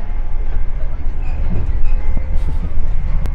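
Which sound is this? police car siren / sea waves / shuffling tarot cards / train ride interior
train ride interior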